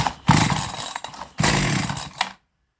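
A two-stroke chainsaw with its timing being adjusted is pulled over and fires, roaring loudly for about a second, cutting out, then catching again before stopping, close by with no speech.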